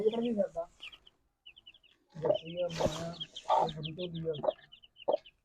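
A farmyard hen clucks in short, repeated bursts close by among a fancier's pigeons and chickens, with people talking over and between the calls.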